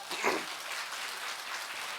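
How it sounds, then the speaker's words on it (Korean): A church congregation claps together, a soft, steady wash of applause with no voices over it, lasting about two seconds. "박수 한번 쳐요."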